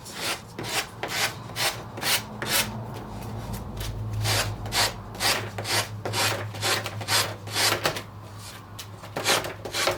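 Rapid back-and-forth rasping strokes of sandpaper on the top edge of a decoupage paper piece, close and fairly quiet, in an uneven rhythm with brief pauses.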